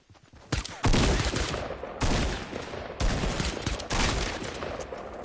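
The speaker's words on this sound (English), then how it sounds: "Whoa, he's shooting at me." Loud rapid gunfire bursts in a shooting video game, several clustered volleys of automatic fire starting and stopping every second or so, close and harsh with no talk over them.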